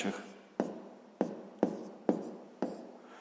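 Pen or pencil writing out a sixth-grade math exercise by hand, with several sharp strokes or taps at steady intervals and scratchy marking between them.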